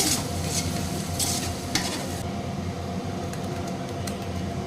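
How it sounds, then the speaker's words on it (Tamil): Coriander and mint leaves being stirred into chicken biryani in a pot, a close scraping stir over a steady background sizzle and hum, continuous throughout, with no talking. "சேர்த்திட்டு ஒரு டைம் நல்லா கலந்து விட்டுறலாங்க"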